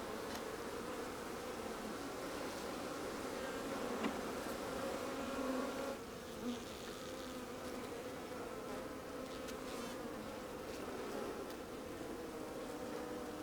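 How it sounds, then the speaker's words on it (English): Honey bees buzz around a hive fitted with a sugar frame feeder on an Alaska property in spring, making a steady, dense hum that continues without a break. "the bees can just get the sugar right there"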